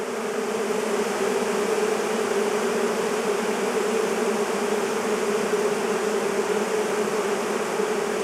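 A honey bee swarm pouring into its new hive at an apiary, a dense, steady, loud buzzing drone from many bees, close and continuous without pause.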